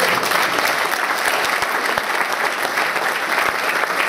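An audience at the Riegele Bierkette 2017 award ceremony for cabaret artist Wolfgang Krebs applauds steadily, a dense, even clapping from a large crowd that fills the whole stretch without speech.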